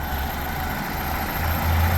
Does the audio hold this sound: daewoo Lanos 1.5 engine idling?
yes